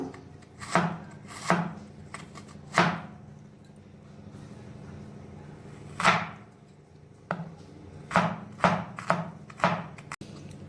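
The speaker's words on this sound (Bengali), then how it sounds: "এবার আদাটাকেও আমি পাতলা পাতলা করে কেটে নেব।" A knife slices ginger thinly on a board for a bottle gourd kofta curry, landing in close, crisp chops: a few spaced strokes, a pause, then a quicker run of cuts, with no talking.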